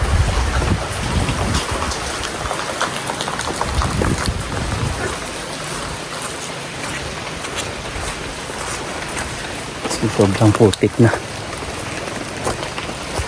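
Steady rain hisses across the whole stretch, with someone talking over it and a louder rustling burst near the end.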